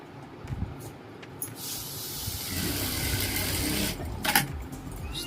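A sewing machine stitches a Patiala salwar in a sustained close whirring run, preceded by a few soft taps and handling noises and ending with a sharp burst of clatter.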